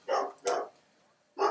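A dog gives three sharp, fairly loud barks, two close together and a third after a pause, with no voices.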